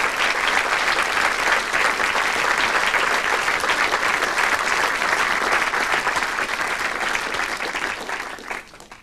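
Audience applause for an award winner at a Showreel 88 ceremony, a dense, steady wash of many hands clapping that holds loud for most of the stretch, then thins and fades near the end.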